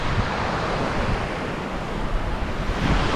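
Ocean surf breaking steadily on a beach at the Bay of Fires in Australia, a continuous loud roar of waves with some wind noise and no talking.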